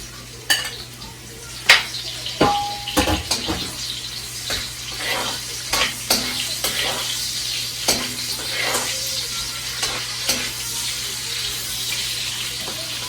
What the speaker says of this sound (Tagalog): palambutin lang natin konti yung sibuyas bago natin ilagay itong karne